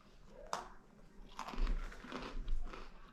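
Crunchy bites into freeze-dried chocolate pie, with a sharp crunch near the start and several louder crunching chews that follow, close-up and without talk.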